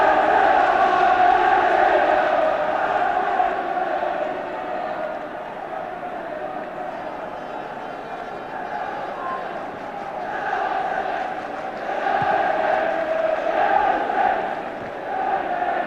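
A large football crowd at the 1979 FA Cup match between Liverpool and Manchester United chants and roars steadily in a distant wash that swells and fades, with a commentator speaking over it.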